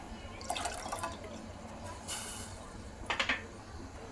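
Water is poured into a pot of softened onions for a Konkani-style Shikori dhan dish, giving a few short splashing and dripping bursts over faint kitchen background hiss, with no voices.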